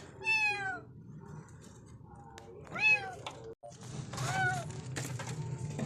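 A cat stuck in a hole in a roof gives several loud, drawn-out plaintive meows in a row, each rising and falling, over a low steady background hum with scattered clatter.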